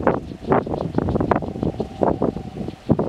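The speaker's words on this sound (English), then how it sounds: "That noise is actually producing by the wind turbine behind WindSpot." Steady broadband wind shushing from a nearby wind turbine behind a smaller WindSpot turbine, rising and falling in gusty pulses with a faint constant hum underneath, outdoors on Penghu island, Taiwan.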